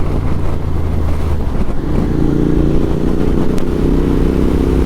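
A Royal Enfield Interceptor 650 motorcycle cruising on a lockdown ride near a Pondicherry beach, its steady engine drone and road rumble running loud and continuous alongside wind buffeting the microphone, with no talk.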